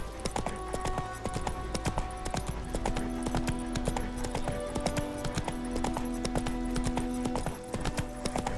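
Roach, the horse in The Witcher 3, gallops with rapid, rhythmic clip-clop hoofbeats that continue evenly throughout, close and clear over faint game ambience.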